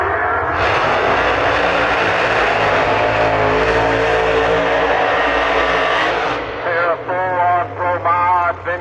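Supercharged alcohol-fuelled 526 cubic inch Hemi drag racing cars at a dragway, a loud sustained engine roar for about six seconds that cuts off, followed by a voice over a lower rumble.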